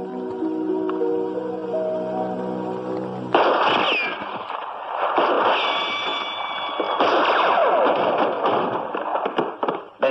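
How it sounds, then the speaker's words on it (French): A low hum gives way abruptly to a loud, sustained crackle of rapid gunfire, dense bursts of shots continuing close by for several seconds. "Des coups de feu, je les ai entendus."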